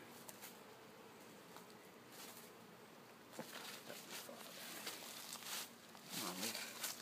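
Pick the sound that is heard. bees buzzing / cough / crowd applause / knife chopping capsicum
bees buzzing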